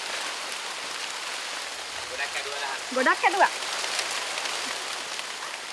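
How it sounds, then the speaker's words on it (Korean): Heavy sudden rain shower hisses steadily over a tea plantation in Sri Lanka, while a person briefly says a few words partway through. "갑작스럽게 쏟아지는 소나기로 작업이 중단되고"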